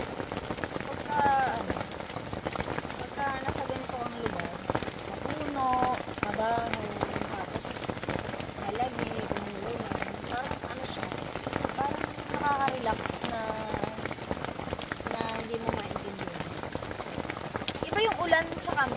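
Steady rain falling on a cold, foggy campsite, with continuous close patter on surfaces throughout and people talking over it.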